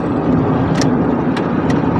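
Car driving along a quiet back road, a steady low engine and road rumble running throughout at close range, with a few brief higher-pitched bursts over the top and no talking.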